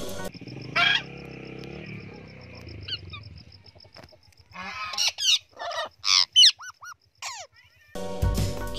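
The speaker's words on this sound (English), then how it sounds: "P for parrot" A cartoon parrot squawking in a children's phonics song, a run of sharp squeaky squawks in short bursts between song phrases, close and clear over light music.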